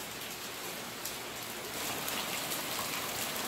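Steady rain falling at Cape Cod, a dense, even hiss of drops on surfaces that holds throughout and swells slightly partway through, with no voices.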